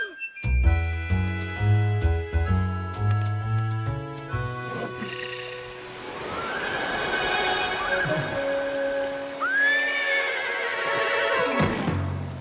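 A cartoon horse in an Old West setting gives a loud, drawn-out whinny, with music playing and some clip-clop and jingling along the way.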